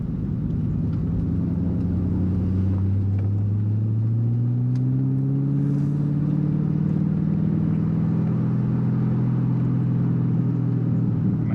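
A 2002 Ford Mustang Saleen drives along, its engine droning steadily with the pitch rising and shifting as it accelerates, a loud close rumble heard from inside the car with no talk.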